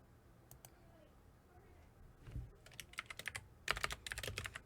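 Fingers type on a computer keyboard, quiet at first, then a quick run of close, crisp clicks and key taps in irregular bursts.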